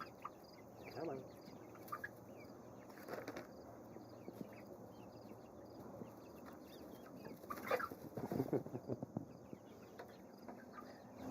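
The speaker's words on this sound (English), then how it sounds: "that's the one rooster, the black guy over there. He's a black Sumatra." Quiet, distant clucking from a flock of chickens including a black Sumatra rooster, scattered soft calls that grow busier toward the end over a faint outdoor background.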